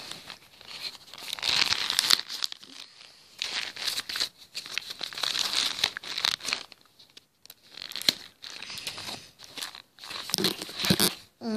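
Paper and sticky tape handled, torn and crumpled while folding a paper Boo ghost from Mario, heard as repeated close crinkling and tearing bursts separated by short pauses, with no talking.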